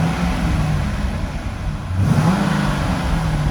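A 2005 Corvette convertible sits running, heard from outside as a steady, fairly close low engine hum with a slight swell partway through, and no one talking.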